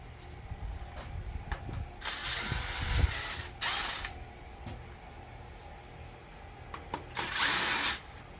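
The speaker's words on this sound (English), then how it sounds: "I'm gonna go ahead and grab my impact." An impact wrench loosens bolts during a 6.0 Power Stroke diesel engine teardown, firing two loud rattling bursts of a second or so over quieter clinks and shop handling noise nearby.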